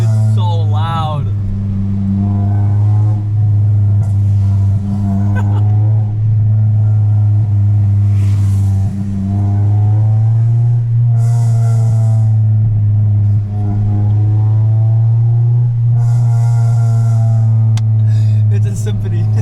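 A 2003 Honda Civic EX coupe with a manual gearbox and aftermarket exhaust drones loudly from inside the cabin, its revs rising and falling steadily while occupants talk over it.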